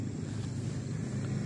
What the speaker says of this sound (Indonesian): Anginnya cukup kencang anginnya.